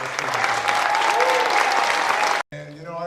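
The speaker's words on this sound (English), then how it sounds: "Let's applaud all of our" An audience at a film camp premiere awards show claps loudly and continuously for the students, then the applause cuts off abruptly and a voice begins speaking.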